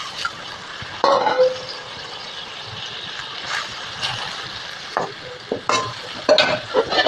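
Fried fish is added to a pan of tomato and onion for a Bengali fish chorchori, giving a low simmering sizzle broken by several sharp stirring scrapes and clatters.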